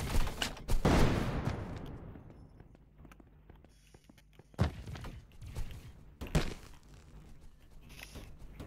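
Gunfire in the shooter game Energy Assault: a rapid burst of shots near the start, then two sharper single bangs later, with quieter clatter and thumps between, all fairly faint and with no talk.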